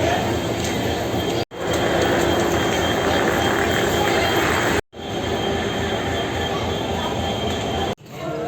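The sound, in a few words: train at Ajmer railway station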